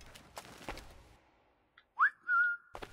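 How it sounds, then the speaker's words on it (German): Whistling in the video game Assassin's Creed IV Black Flag: a short, loud, rising whistle followed by a sustained steady tone lasting about half a second, set against quieter in-game background sound. "Nein, nicht pfeifen."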